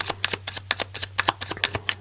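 A deck of Smith-Waite tarot cards is riffled and shuffled close up, giving a rapid series of crisp papery flicks in an even rhythm, with a low steady hum beneath.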